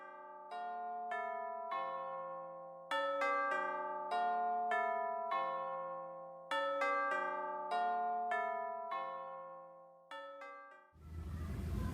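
Church bells peal in repeating descending sequences, clear and resonant, with a brief break between rounds; ends with a burst of rumbling noise.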